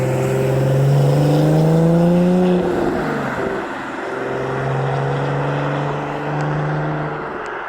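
A Porsche sports car drives past a rural roadside near Bannockburn station in Scotland, its engine note rising and falling loudly as it approaches and recedes, followed by a second steady vehicle hum.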